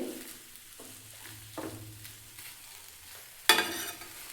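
Raw mango pieces are roasted in a pan for mango gulamba, with a soft, steady sizzle broken by occasional stirring scrapes and one sharper clatter near the end.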